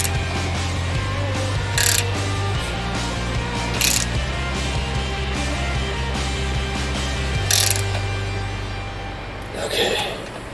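A rivet nut tool tightens a nut into a Jeep Wrangler with a steady mechanical grinding drone that shifts in pitch several times, punctuated by a few sharp clicks, with people talking nearby.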